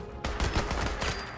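A burst of rapid gunfire in the video game Fallout 76, Nuclear Winter mode, with several loud close shots in quick succession.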